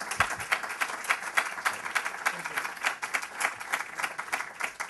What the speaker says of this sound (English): Let us receive him with a warm applause.